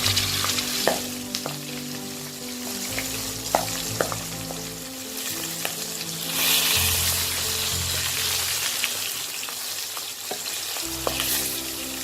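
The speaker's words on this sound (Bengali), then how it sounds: "এই পিঠটাও আমি কড়া করে ভেজে নেব।" Pieces of katla fish fry in hot oil for a Bengali fish curry, giving a continuous close sizzle with occasional spatters and soft utensil scrapes as the fish is turned, with no talking.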